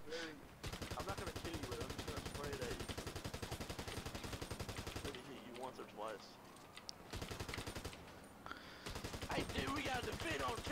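Gunfire in the video game GTA 5, rapid automatic bursts rattling steadily with short pauses, mixed under game dialogue and voices talking throughout.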